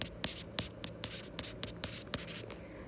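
Pen writing notes by hand on paper, a run of quick close scratchy strokes and taps in an irregular rhythm, fairly quiet, with no talk.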